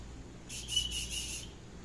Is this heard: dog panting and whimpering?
no